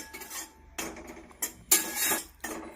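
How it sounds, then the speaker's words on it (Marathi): Wheat flour is roasted in a pan, heard as a series of metal spatula scrapes and clinks against the pan, irregular bursts with short quiet gaps, close and without speech. "आता इथे मी पीठ भाजत आहे"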